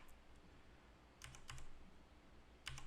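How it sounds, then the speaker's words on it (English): Arrow keys clack on a computer keyboard during benchmarking in SolidWorks, a few faint quick key presses in bursts against a quiet low hum. "So if I smash the arrow keys, right, there's a delay."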